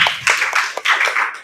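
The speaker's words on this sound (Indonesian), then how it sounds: "Tepuk tangan." Students clapping in a classroom after group presentations, a short burst of loud, close, uneven claps in a few rhythmic bursts.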